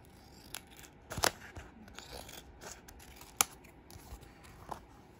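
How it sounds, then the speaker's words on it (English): Scissors trimming a paper shaker card, a few sharp distinct snips, one near the start and one later, standing out over a quiet background of faint paper handling. "Now we gotta cut off the bottom. Just trim the top down a little bit."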